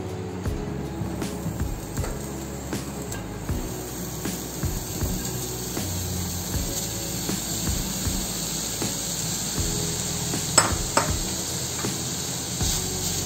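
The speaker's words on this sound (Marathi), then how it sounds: "आता या कढईमध्ये आपण हा खवा घालून घेऊ।" Khoa roasting in a hot kadhai for saffron pistachio modak, a soft steady sizzle and hiss with scraping stirring strokes and clinks, close and continuous with no talk.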